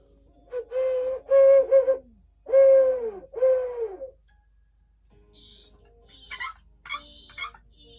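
Owl-like hooting in a children's sound-effects reading, several tonal, falling hoots in two groups, then softer higher chirps and whistles toward the end, no speech over it.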